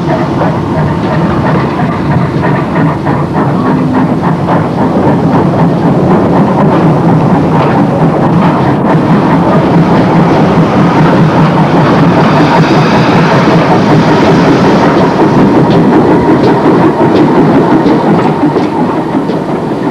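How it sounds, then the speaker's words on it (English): A steam auto train leaves a bay platform at Ross-on-Wye in 1959, rumbling steadily nearby, heavy engine drone with a rhythmic clickety-clack of wheels on rails throughout. "the Monmouth auto train left from the bay platform."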